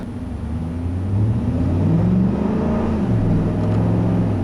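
A 2012 Ford F-150 Harley-Davidson Edition pickup's V8 engine runs steadily while driving, its low rumble swelling slightly as it accelerates, close and continuous with no talking.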